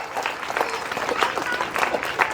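Applause from the audience at a school award ceremony, lively clapping close by that holds steady throughout, with some crowd noise mixed in.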